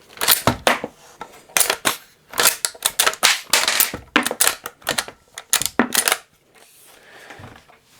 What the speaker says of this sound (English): it ejects shells just like the original Winchester